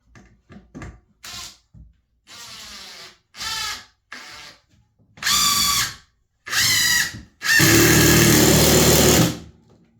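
A power drill drives a screw into a wall stud in a garage, a series of short whirring bursts that lengthen and grow louder, ending in a sustained strained grind as the screw seats.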